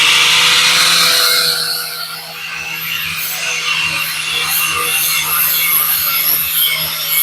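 An angle grinder's disc bites into metal while a DIY tool for lifting fuel manhole covers is made, giving a harsh, continuous high-pitched grinding that dips briefly and then holds steady and loud.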